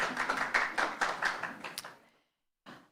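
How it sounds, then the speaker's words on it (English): An audience at a Women's Month celebration gives a brief round of applause, a quick patter of claps lasting about two seconds before dying away. "give them a round of applause for that amazing achievement"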